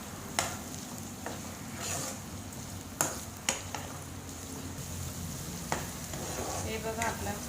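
Chopped onion sizzles in hot oil in a pan, a steady crackle broken by sharp clicks and scrapes of stirring, fairly quiet and close, with no speech.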